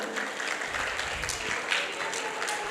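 Audience applause at a seminar session in a hall, a steady dense patter of many hands clapping for a few seconds without a break.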